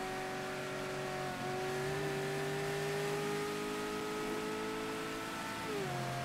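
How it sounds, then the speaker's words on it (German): A car engine in the video game Mafia 3 drones and revs steadily, its pitch climbing and dipping through gear shifts, loud and continuous with no talk over it. "Immerhin, der Wagen klingt ganz geil."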